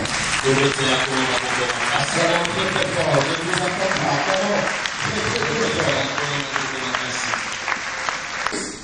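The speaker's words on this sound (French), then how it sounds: "Acclamons pour le Seigneur." A church congregation at a prophetic worship service applauds and cheers together, dense continuous clapping mixed with loud crowd voices and shouting throughout.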